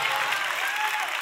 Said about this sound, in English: Y'all keep clapping like an angel.